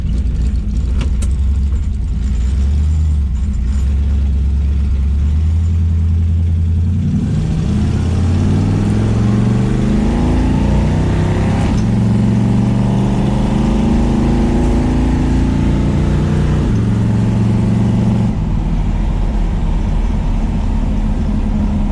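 A Dodge Dart fitted with 3.91 gears accelerates hard and loud, its engine note climbing through rising revs with shifts before settling into a steady high drone as it pulls away.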